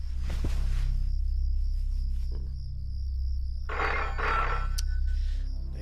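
A telephone rings repeatedly in a 90s Bollywood comedy film scene, a distant, fairly quiet electronic trill over a low hum, with short bursts of other room sound.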